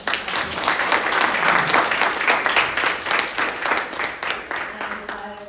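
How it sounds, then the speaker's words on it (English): Audience applause at a career and higher education talk, a lively burst of hand clapping with a pulsing, uneven rhythm that tapers slightly toward the end. "I would like to give a round of applause to our"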